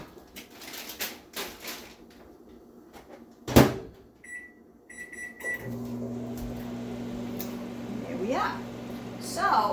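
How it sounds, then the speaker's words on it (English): A microwave oven heating peas starts with a clunk of the door, a few short beeps, then a steady low electrical hum running on, with other faint kitchen sounds in the background. "I need to put the peas in the microwave"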